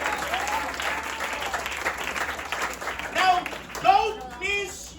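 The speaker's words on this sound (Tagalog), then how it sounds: "Malakas na palakpak para kay Jesus" A church congregation in Muntinlupa applauds loudly and steadily during a worship service, a dense wash of clapping with some crowd voices rising near the end.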